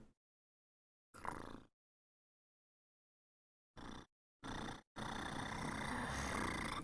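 A streamer's voice imitating a cat's purr, with several short rumbling bursts separated by silence, then a longer continuous, louder purring rumble to the end.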